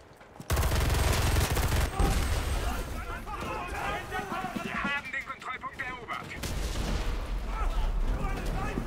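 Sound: gunfire in the video game Enlisted, WW2 battle

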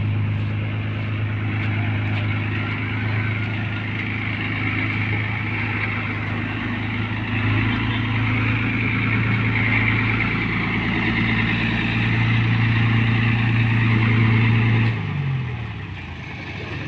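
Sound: heavy vehicle doing driving school T practice

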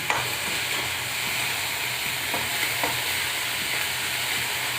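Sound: garlic lightly frying in a pan for chatu paratha

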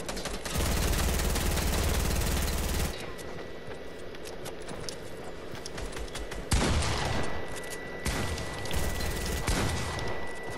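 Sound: gunfire from a video game

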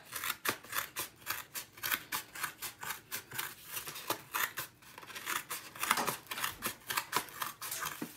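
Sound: scissors cutting the edge off a paper plate

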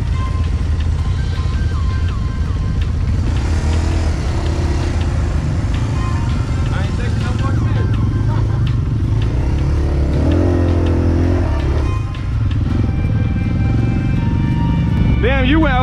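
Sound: off-road vehicle engine driving through mud

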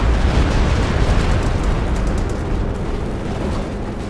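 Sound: Stuka dive bomber barrage explosions in video game Company of Heroes 2

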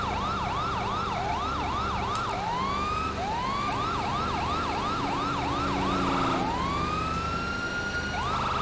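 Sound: police siren in video game GTA V

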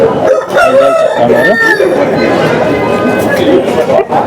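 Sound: rooster crowing at Bangarpet breed hen market

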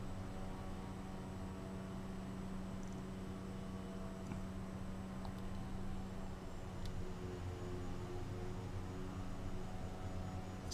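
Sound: airplane flying in Microsoft Flight Simulator video game

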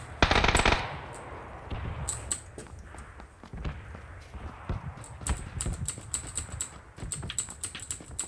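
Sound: gunfire in a video game

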